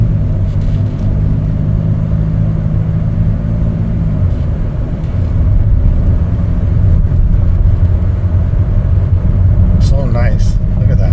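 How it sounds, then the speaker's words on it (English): A 2024 Chevrolet Traverse Limited RS on a test drive gives a steady, smooth low engine and road rumble heard from inside the cabin throughout, with a brief faint clatter near the end. "We're gonna go ahead and take it for a little test drive."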